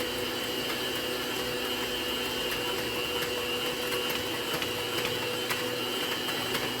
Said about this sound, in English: I'm going to mix it with a mixer until it gets thick